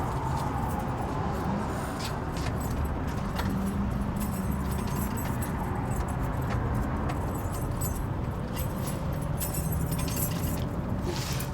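Keys jangling and clinking against a front door lock while different ones are tried, a near, continuous metallic rattle with scattered sharp clicks over a low background hum.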